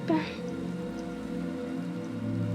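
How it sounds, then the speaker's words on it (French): Steady Minecraft rain patters softly and continuously, with a few faint tonal sounds and a brief chirp near the start. "J'enlève la pluie tout de suite."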